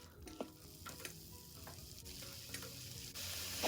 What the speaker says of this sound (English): So now it's time to add in the garlic.